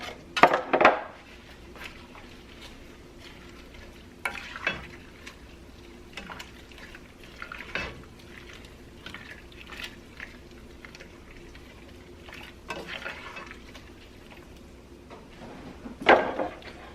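A spoon clinks against a pan now and then while spinach is stirred into a creamy ricotta sauce over low heat, with a faint steady simmer underneath and no talking.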